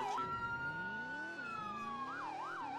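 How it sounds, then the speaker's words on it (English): Police car siren in a patrol video game wails continuously in a game chase, a sustained rising and falling tone with quick yelping sweeps near the end, moderately loud with engine rumble beneath. "Oh my god, I should have turned down the sirens."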